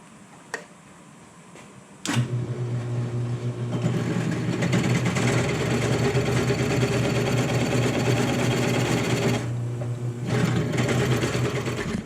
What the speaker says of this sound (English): I'm getting ready to drill a 3 1/4 inch hole in the top to put my woodworm screw or my 3-inch faceplate